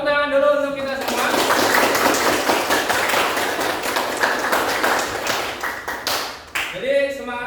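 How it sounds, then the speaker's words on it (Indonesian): Classroom applause from a group of students during a lesson, a dense run of clapping lasting several seconds with a voice talking before and after it. "tepuk tangan dulu untuk kita semua"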